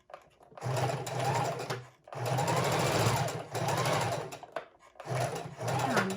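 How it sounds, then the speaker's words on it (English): A sewing machine runs a straight stitch up the side of junk journal pages with pockets over scalloped edges, whirring in three bursts with brief pauses between them, close and clear. "And we'll just sew that straight up."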